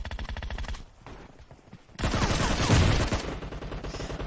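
Rapid automatic gunfire from a Scarlet weapon in PUBG Mobile, a few short bursts and then a long, loud sustained stream of shots in the game.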